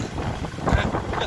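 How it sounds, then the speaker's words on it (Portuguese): Gusty wind by a large river buffets the microphone in a steady rumbling roar, swelling louder around the middle, with water movement faintly underneath as rain begins. "Olha o vento. A folhagem está forte."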